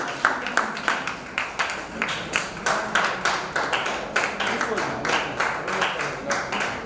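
Scattered audience clapping at a church retreat session, individual claps audible as a loose, uneven rhythm at moderate distance with light room murmur underneath.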